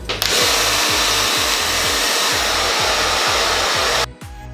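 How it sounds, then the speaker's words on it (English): A hair dryer blows steadily and loudly on hair for about four seconds, its motor drone carrying a rhythmic low pulsing as it moves, then cuts off abruptly near the end. "Now I'm just going to blow dry it."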